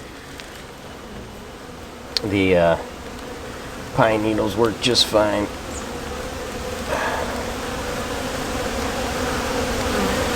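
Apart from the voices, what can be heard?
honey bees buzzing in brood box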